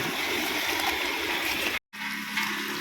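Floodwater rushes steadily after the first monsoon rain in Gujarat, a broad continuous wash of flowing water that cuts out briefly near the end, then resumes with a lower gurgle.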